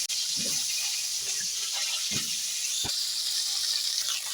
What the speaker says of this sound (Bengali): ফুলকপি এগুলোও অল্প করে ভেজে নিচ্ছি